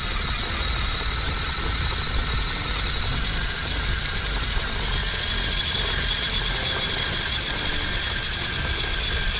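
A WPL C14 RC truck's small electric motor runs flat out, producing a continuous high-pitched whine with gear buzz and faint crunching over dirt, steady and close throughout.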